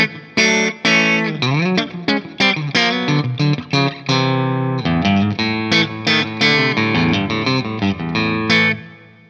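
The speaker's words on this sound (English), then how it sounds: "Now I got a great reverb sound. Sounds like spring reverb built into the amp." Electric guitar recorded through an amp with a spring-style reverb plugin, playing loud distorted notes and chords in a rhythmic phrase, each attack trailing into a short, splashy reverb tail, with no voice.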